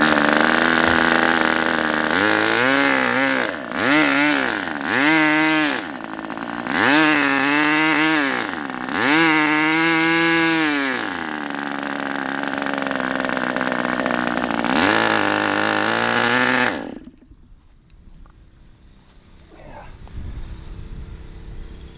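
A Raduga 10RU model engine runs at full throttle on its first run, a loud, close, steady high-pitched buzz that rises and dips in pitch several times before cutting off abruptly, leaving quiet background.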